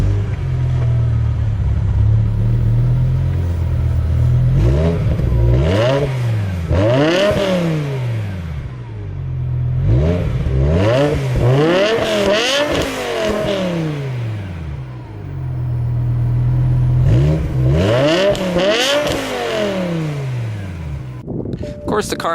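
BMW M5 E60 with its V10 and stock quad sport exhaust revved repeatedly while parked, rising howls climbing and falling back to a deep idle several times, loud and close.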